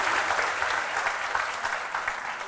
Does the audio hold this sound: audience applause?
yes